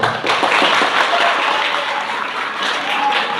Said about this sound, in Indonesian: Tepuk tangan buat Pak.